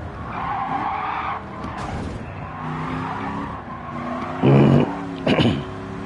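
A race car in Gran Turismo 7 skids with a steady tire screech under the engine roar, then brief louder squeals near the end.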